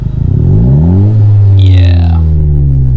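A 10th-generation Honda Civic Si revs hard, engine and exhaust climbing in pitch with a loud, close drone, easing briefly, then surging again and settling into a steady high roar.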